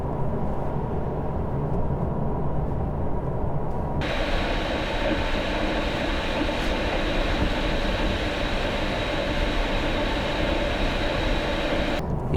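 Steady, loud road and wind noise inside a premium sedan cruising at 90 km/h, a broad unbroken roar that briefly brightens partway through, with no talking.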